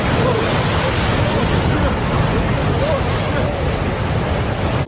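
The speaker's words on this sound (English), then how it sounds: "And it's just been ginormous waves." Huge ocean surf pounding a beach at Pismo Beach, heard as a dense, steady roar of crashing water and wind noise that fills the whole stretch, with faint voices of onlookers mixed in.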